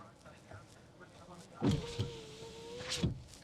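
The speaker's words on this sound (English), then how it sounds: "There's a button here to close all the windows, open all the windows" Car power windows whir as an electric motor drives a glass pane for about a second and a half, with soft clicks and cabin noises around it and a voice in the background.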